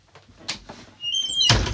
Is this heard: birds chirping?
no